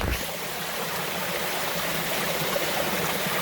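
Spring-fed groundwater flows steadily in a small stream in the hills near Lake Perris, a continuous close rushing and gurgling with no voices.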